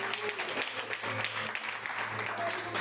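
Steady applause from a church congregation during an evening service, a dense wash of clapping heard at moderate distance, with voices and a low hum underneath.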